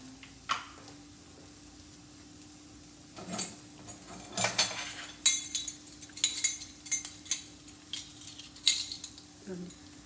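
Mushroom sandwich filling stirred in a pan, metal spoon clinking and scraping in quick irregular bursts over a faint sizzle and a steady electrical hum, close but fairly quiet, no speech.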